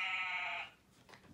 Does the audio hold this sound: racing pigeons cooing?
no